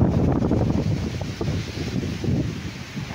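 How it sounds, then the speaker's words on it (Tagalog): Strong wind from a forming typhoon buffets the microphone with a constant low roaring rumble and gusty swells throughout. "Namumuo pa lang po ang bagyo pero malakas na po ang hangin."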